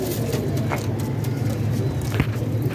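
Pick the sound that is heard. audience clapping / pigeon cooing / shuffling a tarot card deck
pigeon cooing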